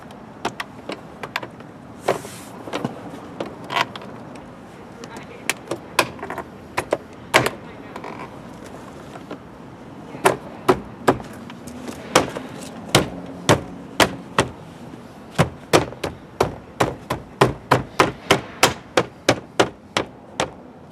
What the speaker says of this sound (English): now you just gotta line all these tabs up and snap back together.